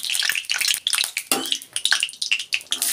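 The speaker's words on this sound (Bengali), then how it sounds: "তেলটা গরম হয়ে গেছে, আগে আমি রসুনগুলো দেবো, তারপরে আমি শুকনো লঙ্কাটা দেবো" Garlic cloves dropped into hot oil in a home kitchen pan, bursts of crackling sizzle mixed with clinks and scrapes of a utensil against the pan, close and fairly loud.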